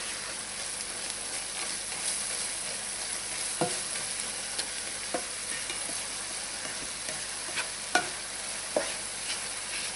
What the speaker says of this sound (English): Cook this about 3 minutes, continually stirring.